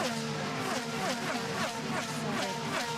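IndyCar race cars pass during Indianapolis 500 practice at the Indianapolis Motor Speedway, a continuous layered engine drone with rising and falling pitch sweeps from cars going by at a distance, no talking.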